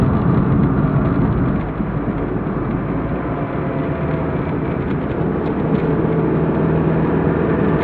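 A car in third gear climbs a long hill on the Akaroa road near Little River, its engine a steady loud droning rumble under heavy road and wind noise, with no voices.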